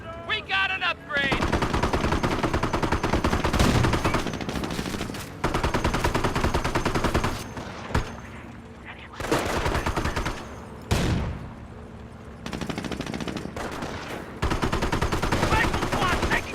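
Dense machine-gun and rifle fire from a Company of Heroes real-time strategy battle rattles in long loud bursts with brief gaps, layered with explosions and shouted unit callouts.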